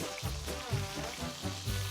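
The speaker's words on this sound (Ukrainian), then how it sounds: "Поки у нас смажиться реберця" Steady crackling sizzle of pork ribs frying in a pan, continuous and close, with soft pops throughout and no voices.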